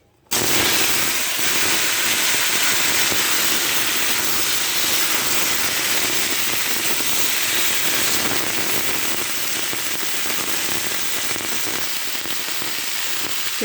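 Torul hits hot oil in a pan with two fried dried chillies, setting off a loud, dense sizzle that starts abruptly and hisses continuously without letting up.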